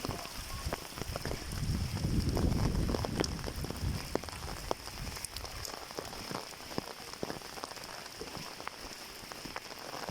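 Heavy rain pours down steadily in a dense, even hiss, with many sharp drops pattering on a nearby surface and a louder rumbling swell early on.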